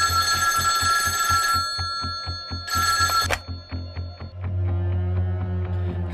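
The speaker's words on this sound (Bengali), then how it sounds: "রিং বাজছে যে" An old telephone bell rings in bursts of rapid, metallic clattering trills, loud and close, with a low electrical hum and pulsing tone sounding between and after the rings, and no voices.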